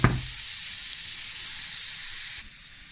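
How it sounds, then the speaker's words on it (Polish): Carrot and celery hiss and sizzle steadily in a hot frying pan, opening with a sharp clatter as they go in, then a dense continuous frying sizzle that drops slightly quieter near the end. "Trzeba to podsmażyć też na złocisty kolor taki."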